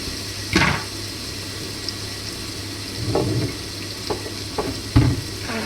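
A spice masala for crab curry sizzles steadily in a pan while a spoon stirs it, giving several soft scraping swishes over the frying hiss.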